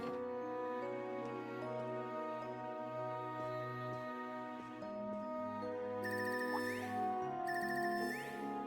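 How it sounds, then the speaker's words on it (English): A phone ringtone from the video game Trails of Cold Steel III plays as a steady, repeating electronic melody with sustained tones, joined later by bright chiming bursts, heard clearly with no talking. "That ringtone. I haven't heard this one before."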